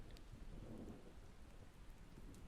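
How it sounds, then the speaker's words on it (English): Steady rain pours down continuously, with a deep thunder-like rumble underneath; no one speaks. "And kind of just listen to the rain"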